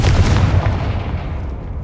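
A Confringo blasting spell explodes in the Hogwarts Legacy video game, a single loud deep boom that swells at once and rumbles away over about two seconds.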